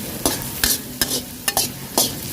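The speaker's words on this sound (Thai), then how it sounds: "แล้วก็คั่วพริกกระเทียมให้หอมๆกันนะคะ" Chili and garlic being stir-fried in a pan for a scallop and vegetable dish, with five sharp scraping strokes of a spatula spaced about half a second apart over a steady sizzle.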